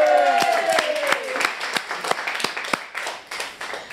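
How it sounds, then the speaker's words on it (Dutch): Audience applause at a singing contest, a steady crowd clapping with a few sharp louder claps, mixed with voices and a brief tonal sound at the start. "iedereen goed aanmoedigen, hè, met grote applaus"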